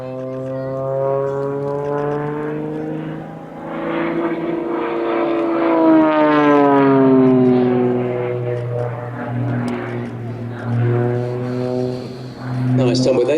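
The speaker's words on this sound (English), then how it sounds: "the aircraft is completely departed as it flies up" Extra EA-330 aerobatic airplane performing a freestyle display at Sywell Airshow, its propeller engine droning loudly with strong rising and falling pitch sweeps as it climbs and tumbles, under continuous commentary.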